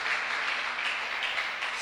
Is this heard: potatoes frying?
no